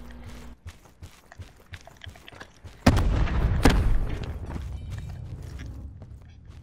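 A grenade explodes in a video game with a sudden loud boom partway through, followed by a rumbling tail over quieter footsteps and movement.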